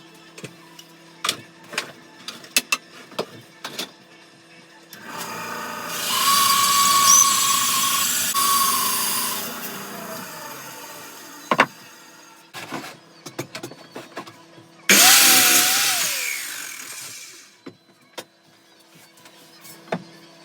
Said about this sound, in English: turn you so you can see my bandsaw. Hopefully you'll be able to see me cutting it